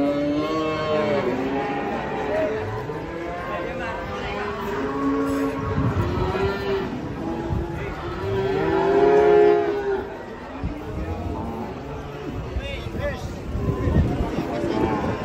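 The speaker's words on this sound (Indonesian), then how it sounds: "Detik-detik penurunan sapi ngamuk." Repeated loud bellowing moos come from an agitated cow being unloaded from a truck at Pasar Pon market in Ambarawa, close by, with crowd noise and shouting voices around it.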